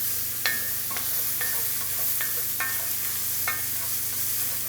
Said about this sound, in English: next we're gonna go in with our red wine followed by our stock